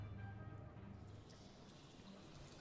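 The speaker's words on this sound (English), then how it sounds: "The sound of trickling water comes from beyond the doorway." Trickling water beyond a doorway in the castle video game Shadowgate, a faint continuous wash of running liquid with a low hum underneath, steady and quiet throughout.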